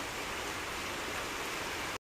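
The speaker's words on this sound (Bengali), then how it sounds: "এখন বাইরে বৃষ্টি পড়ছে" Rain falls outside at night as a steady, even hiss of dense drops, constant and moderately loud until it cuts off abruptly at the end.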